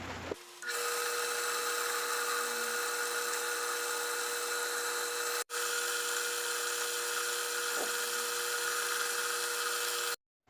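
A milling cutter cutting a small metal part for a homemade electric scraping machine gives off a steady, high-pitched whine that runs unbroken for about ten seconds, close and alone.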